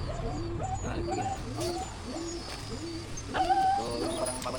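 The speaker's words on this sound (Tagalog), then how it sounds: "Ang dami kong kalapati ngayon, may 100 ulo." A flock of roughly a hundred pigeons, including a batch of young birds, coos in a loft with repeated low throaty calls that overlap in a steady, layered rhythm at moderate loudness.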